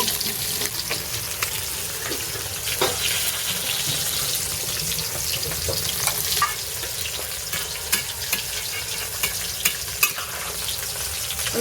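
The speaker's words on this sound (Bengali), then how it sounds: "মাছগুলি লাল লাল করে ভেজে নিয়েছি" Katla fish frying in hot oil, a constant crackling sizzle with scattered pops and spits, steady and fairly close, no talk.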